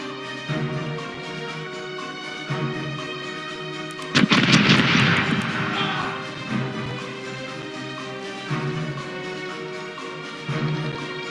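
Ship cannons firing a broadside in the pirate game Corsairs Legacy, a heavy roaring salvo of overlapping booms that rumbles and fades over a steady droning background, with a few softer thuds afterward.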